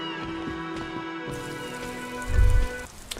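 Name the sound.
rain falling in the video game Disco Elysium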